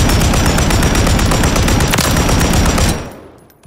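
A PKP machine gun in Call of Duty Modern Warfare III fires one long, loud, rapid sustained burst for about three seconds, then stops abruptly and leaves a fading echo.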